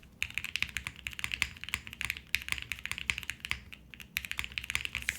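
Rapid mechanical keystrokes on a custom Alison60 keyboard, close and crisp, clack in a fast, uneven rhythm with a couple of brief pauses and no talking.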